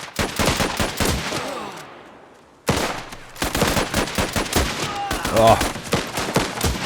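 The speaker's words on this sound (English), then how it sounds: "If we set up a firing position here with the machine gun and set up the second one next to them." Rapid machine gun bursts from the video game Last Train Home, loud and dense, broken by a short lull before heavy firing resumes, with a brief exclamation from a voice over the din.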